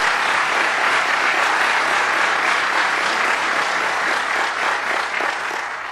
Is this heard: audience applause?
yes